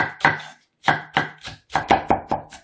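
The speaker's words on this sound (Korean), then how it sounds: "대파는 어슷썰기로." A knife cuts green onion diagonally on a board in crisp, close chopping strikes, one short pair followed by a quicker run of about eight, with brief pauses between and no talk.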